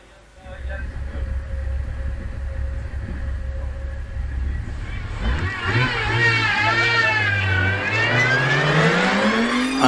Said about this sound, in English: and that is what a supercharged E-Type Jaguar sounds like